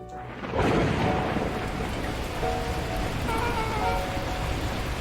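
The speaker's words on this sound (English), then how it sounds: "the heavens opened up, unleashing torrential rain" Heavy rain pours down in a dense, constant roar, beginning abruptly and continuing loud and unbroken, with faint tonal sounds in the background.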